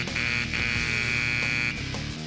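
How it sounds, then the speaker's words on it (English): Door buzzer ringing in one long, harsh, steady electronic buzz lasting about two seconds before cutting off, loud and close, with no voices. "Who is buzzing me?"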